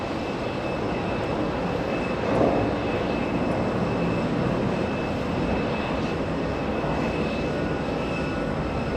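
A jet airliner departing runway 13 right at JFK, a steady distant engine roar that swells slightly partway through, sustained and moderately faint with no voices.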